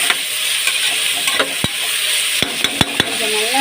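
Ginger garlic paste sautés and sizzles in a pan with salt, a steady close hiss broken by several sharp clinks of a spoon stirring against the pan.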